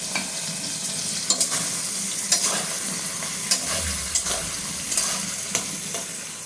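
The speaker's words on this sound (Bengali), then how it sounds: "এখন দিয়ে দিচ্ছি কুচানো পেঁয়াজ।" Chopped onions sizzle and fry steadily in a hot pan, with repeated scraping stirs of a spatula breaking through the continuous crackle; no voices.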